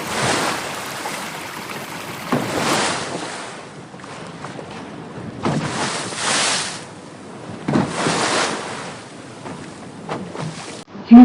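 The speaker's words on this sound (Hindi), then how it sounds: "वो होड़ी बनाता है और उसकी सहायता से" A boat crosses a river in a cartoon, with swelling waves of water and wind-like rushing rising and falling in repeated surges, fairly loud and steady, with no talking.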